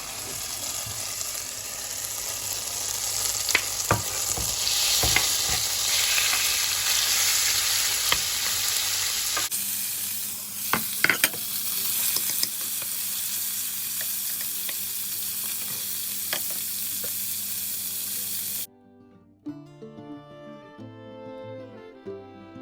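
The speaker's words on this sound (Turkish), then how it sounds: "şimdi etlerimizi ilave edeceğiz" Pieces of beef entrecote hit a hot pan and sizzle loudly, with stirring scrapes and clicks over steady frying, before the sound cuts away and soft background music takes over at the end.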